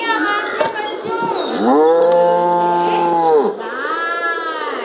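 A cow lets out a long, loud moo that swells and then fades, close by, with a rough lowing noise before and after it.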